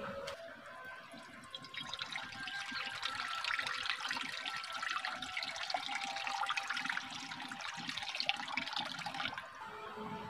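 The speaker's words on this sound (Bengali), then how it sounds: "তার জন্য আমি কড়ার মধ্যে জল দিয়ে দিচ্ছি" Water pours steadily into a wok on the stove, a continuous splashing stream running for around ten seconds in a home kitchen, heard alone without voices.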